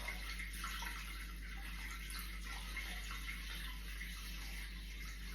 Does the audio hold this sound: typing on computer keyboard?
no